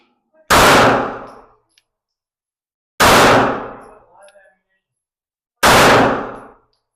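Three loud, sharp single shots from a Glock 17 pistol fitted with a Molon Labe slide, spaced a few seconds apart outdoors, each a crisp crack with a short fading tail and silence between.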